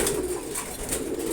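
Domestic pigeons cooing in a loft where pairs nest on eggs, soft repeated low coos close by with a steady murmuring background.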